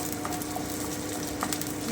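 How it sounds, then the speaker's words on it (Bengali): Potatoes fry in mustard oil in a wok with a soft, steady sizzle, broken by faint scrapes and light clicks of stirring close by. "আলুটা আর একটু ভেজে নিচ্ছি"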